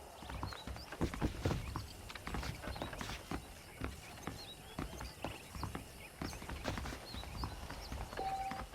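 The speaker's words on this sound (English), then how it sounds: "The horses are saddled up over here." Saddled horses in the Red Dead Redemption game clip-clop along in a steady walking rhythm of hooves, moderately close, with a constant outdoor ambience and no talking.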